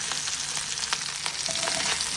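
Fish sizzle steadily in hot oil in a wok, a dense, continuous crackle with scattered pops, close and fairly loud, with no talking.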